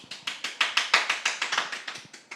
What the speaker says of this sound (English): drum roll, please. Round of applause.